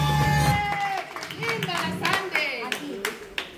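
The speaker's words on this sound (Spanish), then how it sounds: "Sandy, vamos a irnos con un fuerte aplauso." Audience at a lively family presentation on a comedy stage show breaks into scattered, close hand claps that grow sharper toward the end, mixed with overlapping voices and chatter.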